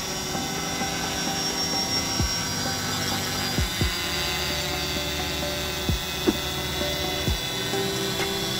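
A camera drone flies in fog, giving a faint, steady electric whine and hum, with a few brief soft clicks and tonal sweeps scattered across it; no one speaks.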